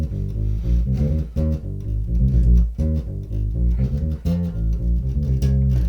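Bass guitar riff from a rock outro: a driving run of punchy low notes moving quickly through the phrase, loud and close with no voices.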